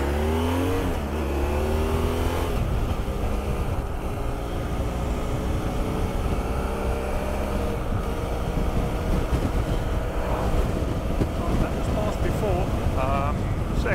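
A motorcycle climbing a mountain pass, its engine revving and accelerating through gears, with steady loud wind roar over it for the whole stretch.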